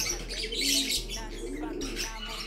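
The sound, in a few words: pigeons cooing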